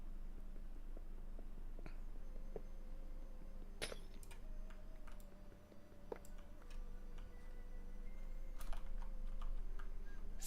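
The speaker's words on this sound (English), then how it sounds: "It's just the typing." Quiet keyboard typing in a Minecraft modpack stream: irregular soft clicks and key taps scattered across the stretch over a low background hum.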